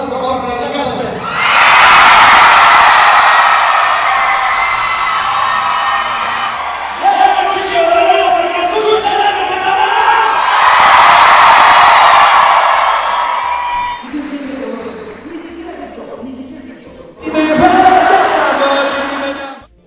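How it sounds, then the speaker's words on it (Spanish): A live stand-up comedy crowd in Chimalhuacán, Mexico, claps, whoops and cheers in two big swells, then breaks into shorter bursts, with a voice cutting in between. "Un aplauso, por favor, para Ricardo López"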